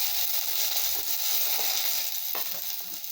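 Herbs sautéing gently in a pan over a low flame for a lemon rasam, a steady soft sizzle filling the whole stretch, close and even, with a faint stirring scrape near the end and no talking.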